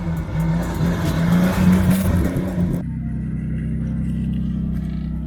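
A Toyota Supra with a newly installed transmission drives along a street, its engine loud and revving at first, then dropping abruptly to a steady, lower drone as it passes.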